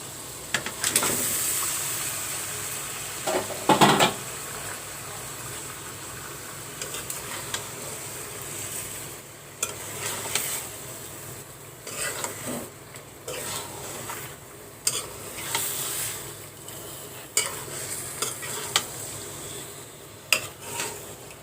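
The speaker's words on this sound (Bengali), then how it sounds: "এবার আমি মাছগুলো দিয়ে দেব।" Fish sizzling and frying in a pan of cooked-down spiced masala with tomato, stirred with a utensil that scrapes and clinks now and then; steady close hiss throughout with intermittent louder stirring bursts.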